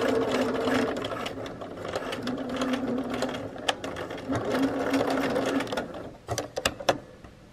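A sewing machine stitches a bra hook and eye closure, running in a steady rapid whir that ends in a few separate clicks and thumps.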